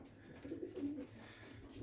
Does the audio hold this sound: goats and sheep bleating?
no